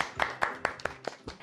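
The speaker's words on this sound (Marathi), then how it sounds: "जोरदार टाळ्या तुमच्यासाठी" A small group claps rhythmically, about seven sharp claps in quick succession, close and fairly quiet, for children who have just finished playing a game.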